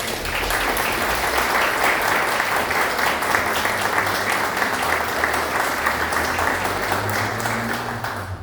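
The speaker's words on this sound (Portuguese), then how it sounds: "Hoje as palmas foi para essa casa maravilhosa que nos acolheu durante todo esse ano" Sustained audience applause at a Spiritist lecture gathering fills the whole stretch, steady and dense with no pauses, with a faint voice or two underneath.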